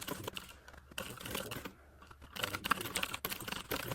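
Rapid, uneven clicking of fingers typing on a computer keyboard, close and fairly quiet, with brief pauses between bursts of keystrokes.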